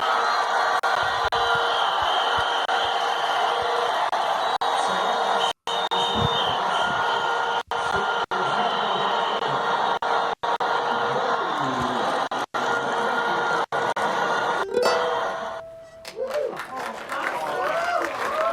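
A crowd cheers and applauds for an extended stretch, a loud steady roar of clapping and whoops with brief dropouts, before voices break in near the end.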